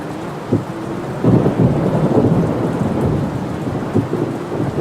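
Heavy rain pours steadily on a stalled car during a film scene, with rolling thunder rumbles swelling in the middle and no talk.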